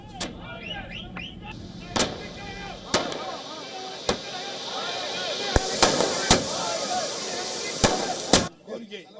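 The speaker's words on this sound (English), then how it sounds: "They burst firecrackers and also raised party slogans." Sharp firecracker bangs burst irregularly over a noisy crowd of political party supporters celebrating after Tamil Nadu elections, loud and close, with shouted slogans and a busy outdoor din underneath.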